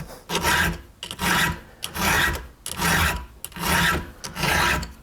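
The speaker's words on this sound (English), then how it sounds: "I'm using a 7/32 file. And I'm sharpening the teeth at 30 degrees approximately" A 7/32 round file sharpens the teeth of a vintage Remington PL-4 chainsaw chain by hand, five steady rasping strokes in a regular rhythm with short pauses between, close and loud, no talking.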